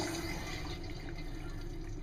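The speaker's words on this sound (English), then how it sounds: "we got water pressure, toilet flushes" An RV toilet flushes after repair with a new brass water valve and reconnected water line, giving a steady close rush of running water that fills the whole short stretch at even loudness.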